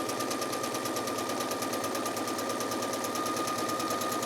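A sewing machine stitching in an invisible zipper, a steady fast mechanical whirr with even rapid needle ticks running continuously at close range.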